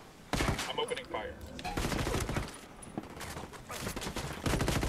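Gunfire in Ghost Recon Wildlands, dense automatic bursts and rapid shots rattling almost continuously, close and loud, with players talking in between.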